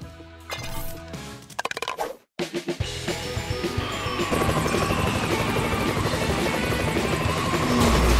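A cartoon helicopter in a PAW Patrol video game whirs up after a brief silence, its rotor chopping steadily and growing louder, with game music and effects layered in.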